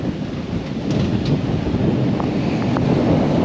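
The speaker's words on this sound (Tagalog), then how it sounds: "lakas ng hangin." Strong typhoon wind roars loudly and steadily, building slightly as it goes, with rumbling gusts battering the microphone and no voices.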